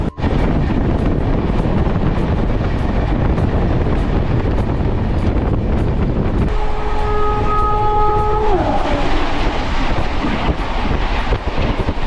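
A passenger train runs from Kolkata to Bardhaman with a loud, continuous rumble and rattle of wheels on track. A sustained horn-like tone rises and then bends away midway through.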